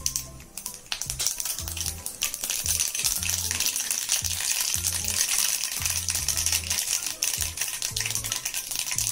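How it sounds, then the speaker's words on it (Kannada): Half a teaspoon of mustard seeds goes into about three tablespoons of hot oil in a pan and sputters there. Dense crackling hiss with rapid scattered pops and rattles, close and continuous, with no talking. "ಒಂದು ಅರ್ಧ ಟೀ ಸ್ಪೂನು ಸಾಸಿವೆ ಹಾಕೋಬೇಕು"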